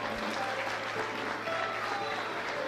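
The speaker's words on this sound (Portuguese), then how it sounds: "aplaudindo a Jesus, porque Ele é bom," A church congregation applauding, steady continuous clapping from a large crowd filling the room, close and even throughout.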